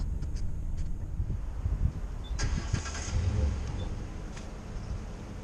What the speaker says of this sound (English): We'll check you later on the ride here as we pull out of the driveway.